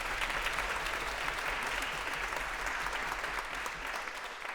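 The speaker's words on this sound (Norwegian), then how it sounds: "En stor applaus også til dagens gjest, Markus Neby." Sustained audience applause at a live podcast recording in a concert hall, a steady wash of many hands clapping throughout, holding level before easing slightly at the end.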